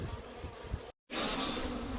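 Honeybees from package colonies buzzing steadily at the hives, a dense close hum broken by a brief cut-off near the middle.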